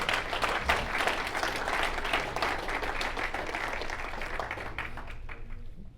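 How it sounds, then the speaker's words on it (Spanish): Audience applause at a church men's conference, a dense sustained clapping from a large crowd that stays loud throughout and fades slightly at the end. "Gracias por aplaudirme."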